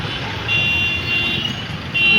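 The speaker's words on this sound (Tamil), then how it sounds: "எவ்வளோ டிராஃபிக் ஆகுதுன்னு பாருங்கள்" Heavy road traffic in Chennai, a dense, loud wash of engines and rumble with a sustained high horn or alarm tone sounding intermittently, close by.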